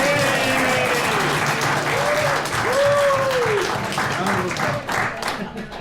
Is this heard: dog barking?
no